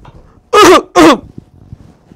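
Two sharp, loud coughs in quick succession, close up, with near silence before and after.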